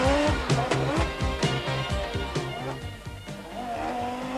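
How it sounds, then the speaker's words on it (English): An Audi Quattro rally car leaving the start line at a 1988 rally event, with a loud, close, rapidly pulsing engine that revs hard as it pulls away. "sends the Audi Quattro car of Sorel van der Merwe and Frans Boshoff away from the start line"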